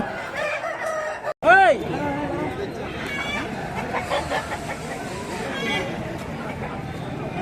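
A fighting rooster crows loudly and close by at a weekly poultry market in Kotthakota, one long rising-and-falling call, over steady background chatter and murmuring voices.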